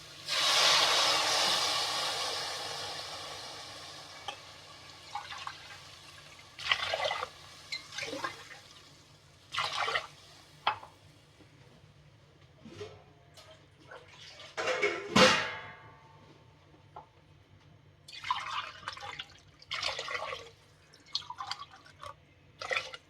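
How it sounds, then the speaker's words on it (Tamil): Four tumblers of water are poured one after another into a pot of rice and lentils for a Tamil-style rice dish, giving separate close bursts of gushing and splashing water with quiet gaps between pours. "நான் என்ன பண்ண போகிறேன்னா 4 டம்ளர் தண்ணி ஊற்ற போகிறேன்"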